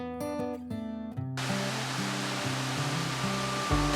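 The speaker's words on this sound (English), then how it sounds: "a waterfall that you can swim in" Steady broadband rushing of falling water at Killen Falls, a swimmable waterfall in Australia, fills the scene after a brief tonal passage at the start, constant and fairly loud throughout.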